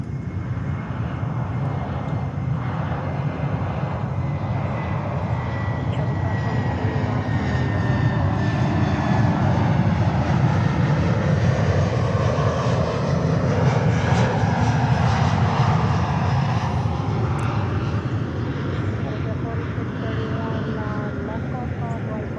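A Delta airliner from Orlando rumbles at JFK with a sustained, broad engine roar lasting over twenty seconds, while a voice talks faintly beneath the noise.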